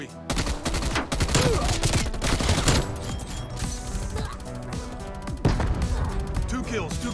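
KSP 45 submachine gun fire in Black Ops Cold War. Rapid burst after burst cracks out loud and close across the whole stretch, mixed with game impact sounds and a voice talking faintly.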